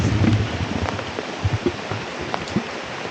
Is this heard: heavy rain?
yes